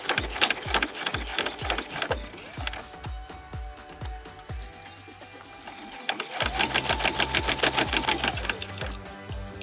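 A sewing machine backstitching a small fabric bag toward its corner, with a fast mechanical needle chatter in bursts that pause briefly before picking up again close by.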